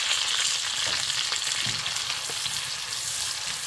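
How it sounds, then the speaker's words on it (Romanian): Onions fry in a pan, a loud, steady sizzle with occasional stirring clatter throughout, no voices. "Acum o prăjim și ceapa"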